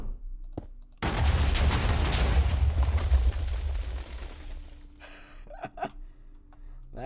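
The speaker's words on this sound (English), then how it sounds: "Then you got the staged big explosion." A staged big explosion in modded Minecraft goes off with a sudden deep, roaring blast that rumbles on for several seconds before fading, followed by a few scattered cracks and pops.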